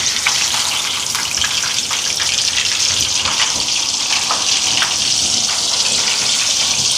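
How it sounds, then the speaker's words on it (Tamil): Meat frying in a pan of hot oil for chicken curry, a steady dense sizzle and crackle that runs unbroken at close range, with no talking over it. "இனி வந்து இறைச்சியை பொரிச்சு எடுப்போம்"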